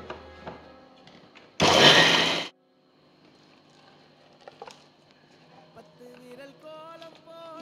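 A kitchen mixer grinds soaked chana dal coarsely for banana flower vada: a single loud, dense whirring burst of under a second, then quiet kitchen sounds with faint clinks.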